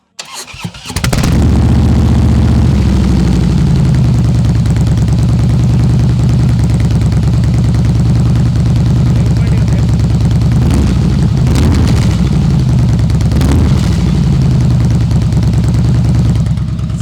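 A Harley-Davidson Fat Boy 103 motorcycle engine fires up and settles into a loud, deep, throbbing idle, with a few sharp revs blipping up in the second half, close and alone for the whole stretch.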